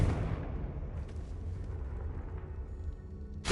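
A Confringo spell blast in the Hogwarts game: a heavy, rumbling explosive burst that fills the opening, decays into a sustained low roar, and ends with a sharp new impact.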